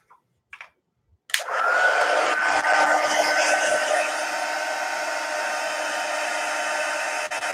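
After a few faint clicks, a hair dryer switches on and blows steadily and loudly over wet yellow and orange watercolor paint on a lighthouse-at-dusk painting, its even roar running to the end with no talking.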